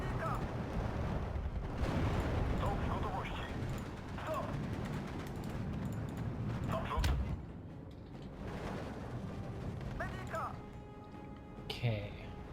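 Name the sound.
artillery bombardment in the video game Steel Division 2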